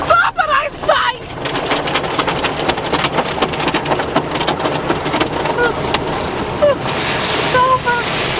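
An automatic car wash sprays water over a car in a steady, loud rush of hissing spray and drumming, with people screaming and talking over it.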